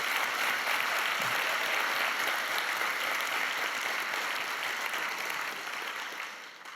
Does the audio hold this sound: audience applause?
yes